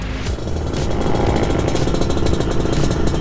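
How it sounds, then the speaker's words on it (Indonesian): A 1991 Yamaha RXZ two-stroke motorcycle with an aftermarket kalajengking exhaust runs steadily, its loud, raspy, high-pitched exhaust note buzzing continuously up close. "Suara lengkingan ini sebenarnya untuk exhaustnya itu knalpot kalejengking ya"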